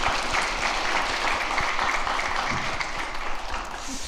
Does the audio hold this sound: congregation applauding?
yes